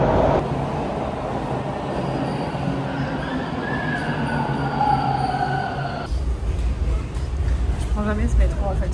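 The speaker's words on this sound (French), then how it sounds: "mon métro arrive en fait. Il y a marqué 3 minutes, il est déjà là" A Toronto subway train pulls into a station with a steady loud rumble and rising wheel squeal, then a heavier low roar as it arrives, close by in an enclosed platform.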